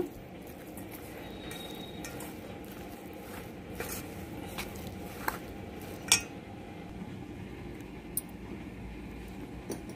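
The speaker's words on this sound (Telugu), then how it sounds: "ఇప్పుడు దీన్ని శుభ్రంగా కలిపేసుకుందాము." Gongura chicken pickle is stirred in a vessel, a quiet, close scraping with sporadic light clinks and taps of a spoon against the container, and no one speaks.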